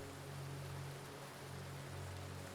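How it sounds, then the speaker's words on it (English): Recorded rain ambience plays on a livestream: a steady, even hiss of falling rain at low volume, continuous and unbroken, with no voices. "There's gonna be rain sounds running through the whole stream, and not just the ones here."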